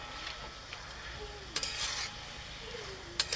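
Tender bottle gourd cooked with a fish head, stirred in a pan, a soft continuous sizzle with light scraping strokes of a utensil and a couple of brief sharper clinks, all fairly quiet and close.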